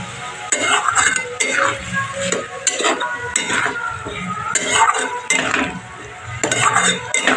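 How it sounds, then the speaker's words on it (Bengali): Spices sautéed in a pan for a potato and paneer curry, with a spoon scraping and clattering against the metal in irregular bursts over a low sizzle, fairly close. "এবার আমি ভালো করে অনেকক্ষণ ধরে কষিয়ে নেব মশলাটার সাথে একসাথে।"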